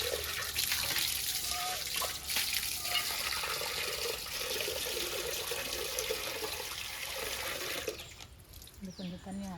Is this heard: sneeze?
no